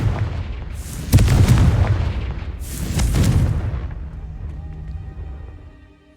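Two heavy booming blasts from the Confringo fire spell in Hogwarts Legacy, each a loud rumbling explosion with a crackling tail, the second about a second and a half after the first, fading into quiet game ambience.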